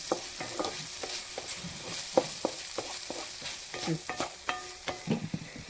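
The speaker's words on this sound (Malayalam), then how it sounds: "നന്നായിട്ട് ഇങ്ങനെ ഇളക്കി ഒന്ന് യോജിപ്പിക്കുക." Tomato rice with ghee is stirred in a pan, with many quick, irregular scrapes and taps of a spoon against the metal over a soft, constant sizzle, heard close with no speech.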